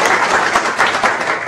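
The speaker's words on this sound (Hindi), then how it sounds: "आप इनके लिए जोरदार ताली बजा दीजिए पहले।" A class of students claps loudly and steadily, a dense close burst of applause with no voices over it.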